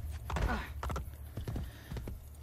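Horse hooves clop in a quick, uneven rhythm in the video game Assassin's Creed Brotherhood, a few heavy thuds close by, over faint background sound.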